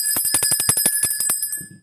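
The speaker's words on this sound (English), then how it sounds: "Now let me ring my bell." A small hand bell, like a bicycle bell, rung rapidly about a dozen times in a steady ringing burst, bright and close, with no talking.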